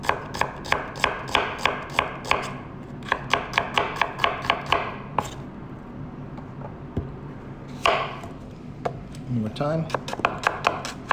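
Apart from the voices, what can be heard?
knife chopping food on cutting board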